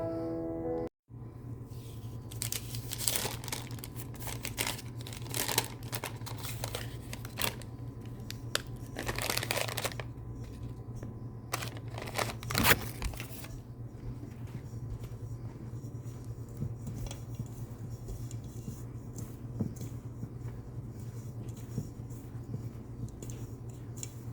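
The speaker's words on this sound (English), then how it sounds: "I'm doing mixing the butter into the already mixed dry ingredients" Butter is worked by hand into dry ingredients for Belizean Creole bun, giving soft, irregular crumbly rustling and crushing textures that come and go over a steady low background hum, with no voices.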